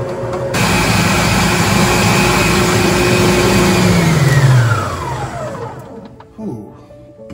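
An electric mixer whirs loudly and steadily as it spins chocolate peanut butter pound cake batter with buttermilk and vanilla extract, then its motor pitch drops and winds down to a stop near the end.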